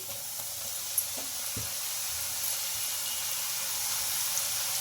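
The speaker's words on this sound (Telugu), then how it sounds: "ఇలా దీన్ని ఆయిల్ అయితే ఫ్రై చేసుకుందామండి" Small onion samosa pastry pieces frying in oil make a steady, close, even sizzle with a few faint knocks, and no voices.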